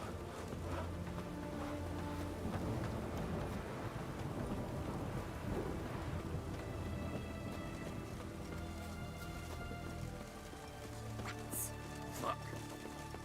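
Steady rain patters in The Witcher video game while thunder rolls low and long beneath it, with faint tonal game sounds and a brief brighter splash near the end, a continuous moderately quiet storm bed.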